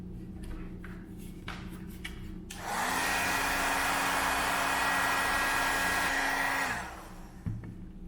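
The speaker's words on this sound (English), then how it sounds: "let's slip that over and hit it with the heat gun" A heat gun blows a steady, loud rush of hot air for about four seconds, shrinking heat shrink tubing over soldered FPV drone components, with quieter handling sounds before and after.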